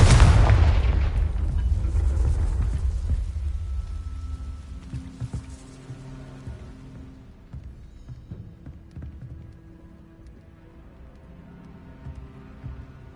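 A Confringo fire spell in Hogwarts Legacy, with a loud blast at the start that rolls into a long rumbling decay, fading over several seconds into quieter game ambience and scattered small clatters.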